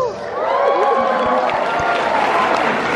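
Audience applause and cheering at a stand-up comedy show in Manila, a dense, sustained wash of clapping and crowd noise filling the room, loud and close, with a few heavy thumps underneath.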